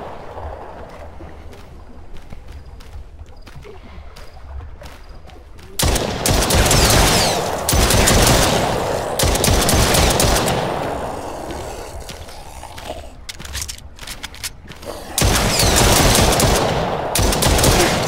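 Automatic gunfire in the Roblox game Brookhaven, starting with sparse faint clicks and then breaking into two long, loud, rapid bursts separated by a brief lull, with no talk over it.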